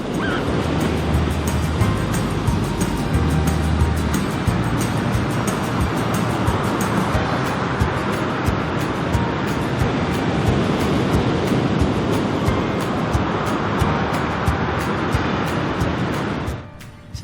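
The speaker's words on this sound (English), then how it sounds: "had some good breaking waves for all the surfers" Continuous roar of ocean surf washing onto a beach in Tahiti, broad and steady, fading out abruptly at the end.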